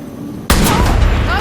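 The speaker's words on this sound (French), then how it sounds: "éclater un ballon pour libérer le reste" A balloon bursts in the video game Far Cry New Dawn, a sudden sharp crack like a small gunshot that cuts through a quiet background, followed by loud sustained noise.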